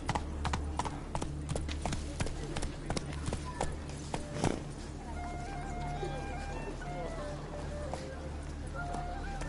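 Roach, the horse in The Witcher 3, gallops with brisk rhythmic hoofbeats for the first few seconds, then the hooves fade into a steady low rumble and ambient game tones; a voice speaks briefly over it.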